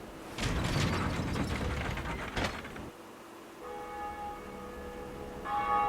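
In Dark Souls, a pulled lever sets off a grinding, ratcheting mechanism of gears and pulleys for a few seconds, then a bell rings with sustained, resonant tones that linger and swell toward the end.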